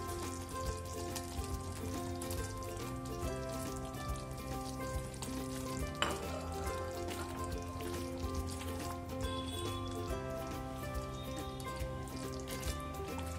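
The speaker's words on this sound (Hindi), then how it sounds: "बस अब इसमें हम ये पनीर डाल देंगे।" Paneer cubes sizzle and crackle gently in a pan of korma gravy, a soft, steady frying hiss with scattered pops, faint and continuous with no talking.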